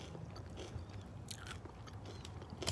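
Spicy Doritos tortilla chips being bitten and chewed close up, quiet irregular crunches and mouth sounds with a sharper bite near the end.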